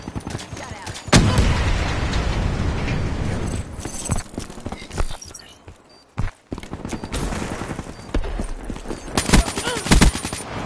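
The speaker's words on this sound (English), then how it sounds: "Incoming frag!" Black Ops 3 multiplayer combat with a frag grenade explosion and gunfire, loud sharp blasts and bursts of shots amid busy battle noise, a brief near-silent gap mid-way, then renewed firing with game voices over it.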